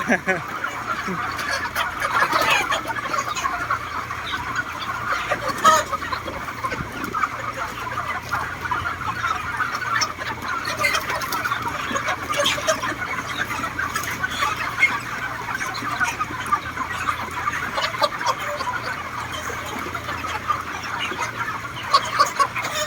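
A flock of chickens on a poultry farm in Israel clucks and chatters nonstop over a steady farmyard hum, many birds calling at once at moderate distance.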